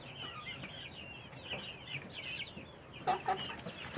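Backyard chickens cluck and murmur softly in a loose, irregular chatter, with a few louder squawks near the end, over light outdoor background.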